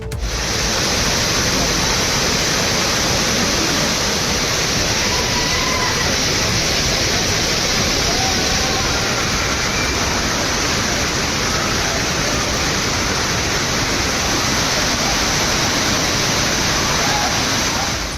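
The Cauvery river at Hogenakkal rushing and roaring as a steady, loud, dense wash of falling water, unbroken for the whole stretch with no voices heard.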